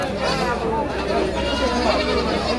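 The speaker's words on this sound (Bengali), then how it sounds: "এখানে রয়েছে তিনটি ছাগল রয়েছে" Goats bleat at a busy village goat and sheep market in Kaitla, Mirzapur, Tangail, with calls rising over steady crowd chatter and nearby talk throughout.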